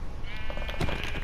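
A single Minecraft sheep lets out a short, wavering bleat, close and clear against a steady game background.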